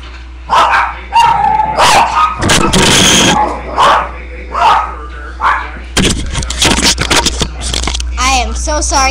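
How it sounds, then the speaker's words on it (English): Several dogs bark indoors, repeated sharp barks and yips at close range, mixed with scratching and scraping and a person talking. "My dogs are barking at nothing."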